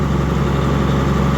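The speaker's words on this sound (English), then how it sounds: "Now you do a 5-minute half throttle, and then 5 minutes at a little higher RPM" Steady idle-to-part-throttle drone of a John Deere 9420 tractor engine during break-in, a continuous low rumble with even vibration, close and unbroken.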